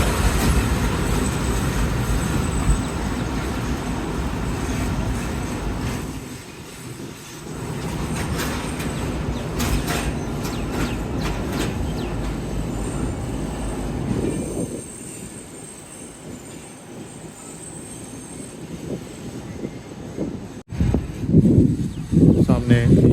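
Train rolling through Rohri railway station in Pakistan, a loud steady rumble of wheels and railcars close by with squeals and clattering bursts, easing briefly and then rising again; voices talk under the train noise.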